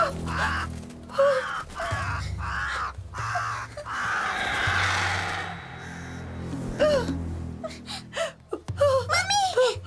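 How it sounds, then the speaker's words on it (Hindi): A crow caws a few times among frightened gasps and whimpers in a South Indian horror film scene, the calls short and harsh near the end, with voices talking around them. "बस एक कौवा है"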